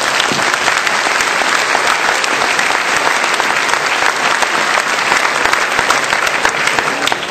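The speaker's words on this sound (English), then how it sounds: "very warm round of applause." An audience at an oath-taking ceremony gives a loud, dense round of applause that holds steady throughout, close and continuous.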